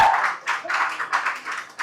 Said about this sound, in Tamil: பெரிய கைத்தட்டல் கொடுங்க